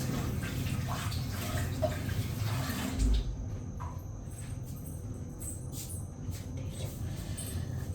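Tap water runs steadily while hands are washed under it in a home kitchen, a broad continuous rush with faint splashes, close and unbroken throughout.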